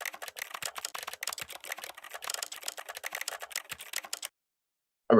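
Rapid keyboard typing from The Stanley Parable video game, a dense clatter of quick key clicks for about four seconds, fairly quiet, followed by silence and a brief sharp sound at the very end.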